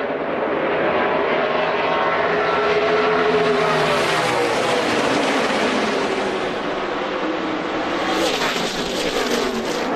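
NASCAR Xfinity Series race cars roar around Darlington on the final lap, a loud, dense engine drone with a passing pitch sweep as cars rush by, crowd and track noise filling the background.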